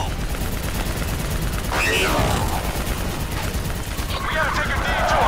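Gunfire in the Call of Duty: Black Ops III campaign, sustained shots and bursts under a dense, loud battle din, with shouted voices heard over the fighting.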